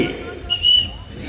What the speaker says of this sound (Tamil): விசில் அடிச்ச விட்டு